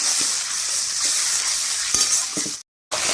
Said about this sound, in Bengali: চিংড়ি মাছ দিয়ে আর 10 মিনিট মতন ভালো করে মশলার সঙ্গে কষিয়ে নেব।